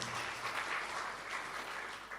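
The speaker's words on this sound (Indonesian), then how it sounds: "Tepuk tangan bagi Allah kita yang luar biasa." A church congregation applauds together during a worship service, a steady wash of clapping filling the room at moderate distance, faint and continuous for the whole moment without any talking.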